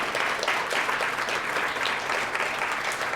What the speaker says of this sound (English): Can we give this amazing individual another round of applause, please?